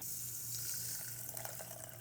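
Water and broth pour into a cooking pot for baked pesto chicken, giving a steady, soft rushing splash that runs continuously for a couple of seconds, close by and without talk.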